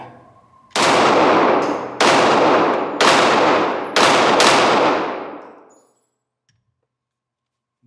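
Five loud gunshots from a Glock 47 pistol, fired in two quick pairs with a single shot between, each with a sharp crack and a long ringing decay, then the range falls quiet.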